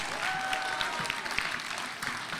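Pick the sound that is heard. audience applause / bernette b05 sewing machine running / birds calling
audience applause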